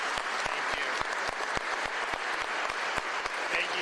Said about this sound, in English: please give a big round of applause to Governor Ron DeSantis